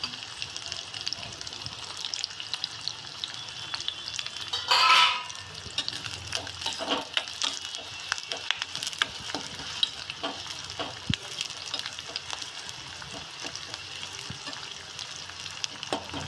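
Dry red chillies and curry leaves frying in a pan of oil for bisibele bath, a steady close sizzle with light stirring and one loud crackling burst partway through.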